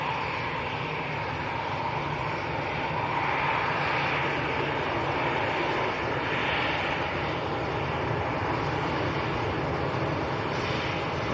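An EasyJet airliner bound for Amsterdam passes overhead near Manchester Airport, a loud, steady jet roar that swells slightly and holds throughout, with no voices.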